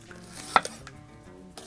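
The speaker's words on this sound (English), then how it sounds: "Maybe go a little bit more of the green. Again, just slice that up." A knife slices a green bell pepper on a cutting board, giving one crisp, close chop followed by a few fainter taps over a soft background, without any talking.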